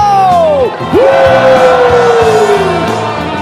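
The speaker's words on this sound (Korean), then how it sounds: "탄핵 함성 치르고 넘어가겠습니다." A crowd at a candlelight impeachment rally cheers and shouts loudly and continuously. Music and a sung line run through it, with a short dip near the start.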